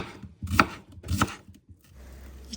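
Knife chopping meat and onions on a board for a samsa filling: two sharp, close chops about half a second apart, then a quieter pause with a low hum.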